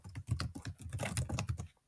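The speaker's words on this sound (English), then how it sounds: "Now I'm typing this here as an example for what you could use" Someone types on a computer keyboard, a fast, steady patter of close, moderately loud key clicks for about two seconds with no talking.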